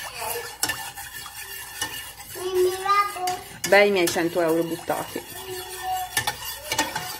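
A spoon scrapes and stirs a thickening cornstarch mixture in a pot on the stove, making steady close clinks and scrapes while someone talks over it.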